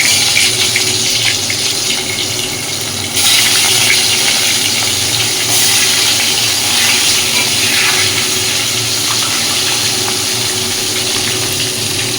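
Singi fish fry in a pan of hot oil, giving a loud, continuous sizzle close up that swells after a few seconds and then holds steady with no voices.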